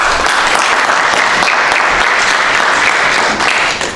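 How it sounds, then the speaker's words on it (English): An audience claps for about four seconds after a talk on electricity markets, a dense, loud, even wash of hands that holds steady and then tapers off slightly at the end, with no voices. "A great round of applause for him."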